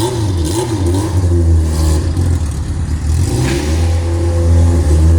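A motorcycle passes close by outdoors, its loud, steady engine drone rising and revving throughout with no pause.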